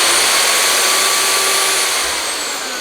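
A motorized metal tube roller runs with a loud, steady, high-pitched whine close by, tapering slightly in level near the end, with no talking.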